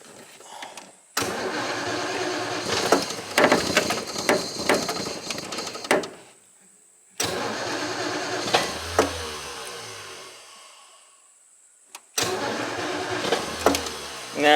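A 1940 car engine, choked, is cranked and starts three times in succession. Each attempt is a rough, loud mechanical clatter that builds into uneven running and then dies away. Short quiet gaps fall between the attempts.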